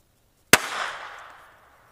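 A single sharp Baby Browning pistol shot cracks out loud and close, followed by a decaying echo tail lasting about a second, with silence before it.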